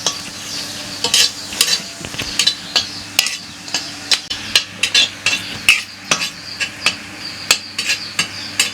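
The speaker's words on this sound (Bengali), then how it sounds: "আলু ভর্তার জন্য মরিচ ভাজতেছে, এই যে শুকনো মরিচ" Dried red chillies frying in oil in a wok for mashed potatoes, a steady sizzle broken by regular scraping stirs of a spatula against the metal pan, close and fairly loud.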